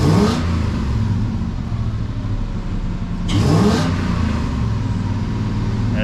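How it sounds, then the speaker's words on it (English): Lexus 1UZFE V8 fitted in a Jeep KJ, revving in two clear bursts that swell and fall back to a steady idle, close and loud with no talk. "If you guys can hear, it won't rev up."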